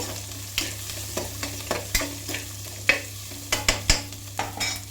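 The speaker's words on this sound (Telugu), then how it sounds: "కిస్మిస్ మొత్తం అన్నీ వేసి ఇవన్నీ వేసి బాగా మిక్స్ చేసుకోవాలండి" For Kerala-style pongal, raisins, cashews and other ingredients fry in a pan while a spoon stirs them in quick repeated scrapes over a soft continuous sizzle, with a low steady hum underneath and no voices.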